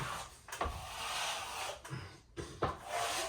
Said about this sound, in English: we're just using that brush just to pick up any low bits, try and agitate the plaster a little bit